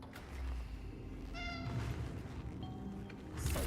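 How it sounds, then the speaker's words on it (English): A cat in the video game Cronos: The New Dawn gives two short, clear meows, the first a little longer, over a steady low in-game background hum. "Hello, cat."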